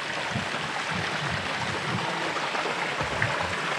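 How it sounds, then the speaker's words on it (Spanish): Steady broadband rush of a river flowing over rocks near a waterfall trail, continuous and fairly close, with no talking. "Ve nada más esta agua."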